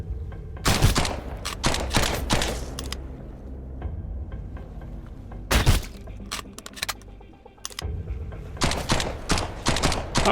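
Bursts of gunfire in the survival shooter Sunkenland, several loud volleys of cracking shots around one, three to four and five to six seconds, with scattered single shots and a final flurry near the end, no talking.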